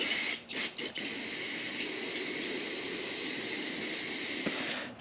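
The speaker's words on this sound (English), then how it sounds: "I'm going to run just a little bit of carb cleaner." Carb cleaner hisses steadily from a spray can onto a carburetor in a garage: one continuous near spray with a few brief stutters at the start, and no voices.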